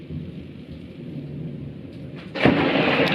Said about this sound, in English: it's got one of the biggest thunderstorms across the whole world.